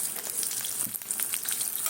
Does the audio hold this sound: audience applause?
no